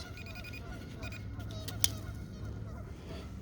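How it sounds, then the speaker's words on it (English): Faint, distant goose honks on a beach come through a steady outdoor rumble, a few scattered calls with a brief sharp click near the middle. "Sounds like we're getting ready to get attacked by geese."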